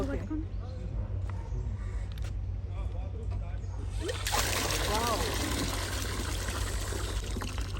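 Water gushing from a campsite tap into a splashing stream that grows louder and fuller midway, with people talking nearby throughout.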